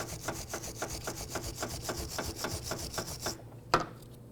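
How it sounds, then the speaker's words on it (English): Rhythmic back-and-forth scrubbing of a stiff wire brush against rusty metal on a 2003-2012 Nissan Murano front brake, about a dozen even strokes, close up, ending with a single sharp knock. "so I'll keep wire brushing."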